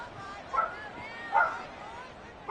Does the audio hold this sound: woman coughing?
no